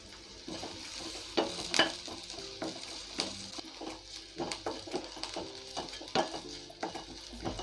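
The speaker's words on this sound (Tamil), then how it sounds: "பாருங்க பச்சை மிளகாவும் நல்லா ஃப்ரை ஆயிடுச்சு" Green chillies frying with ginger and garlic in a pan, a soft steady sizzle broken by clinks and scrapes of a spoon stirring against the pan, close by and with no voices.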